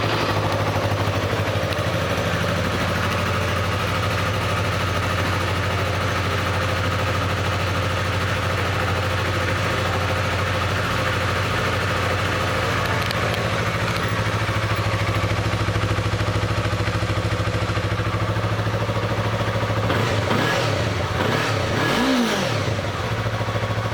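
A used 2015 Yamaha YZF R3 motorcycle idles with a steady, even drone throughout, close and constant, with a brief low swell near the end.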